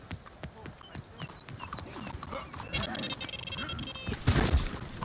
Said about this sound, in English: I didn't know you could get on your horse like that